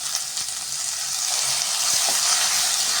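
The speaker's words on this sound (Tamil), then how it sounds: "பச்சை மிளகாய், கருவேப்பிலை இது எல்லாத்தையும் போட்டு வதக்கிக்கலாம்" Green chillies and curry leaves sauté in oil for chana masala, giving a loud, continuous sizzle with a few faint stirring knocks and no talk.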